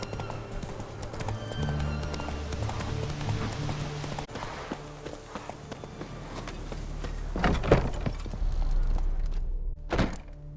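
A horse gallops in a video game, its rhythmic hoofbeats clopping steadily up close with a few heavier thuds and a faint whinny-like sound.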